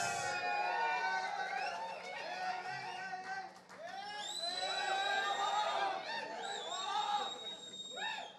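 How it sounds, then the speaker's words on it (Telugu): A large audience at a Telugu movie team meet cheers and screams loudly as an actor is welcomed on stage, a sustained crowd roar with high whoops and overlapping voices. "గట్టిగా చప్పట్లతో పిలిచేద్దామా"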